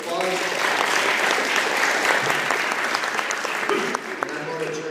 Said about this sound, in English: So if we could just give them a quick round of applause.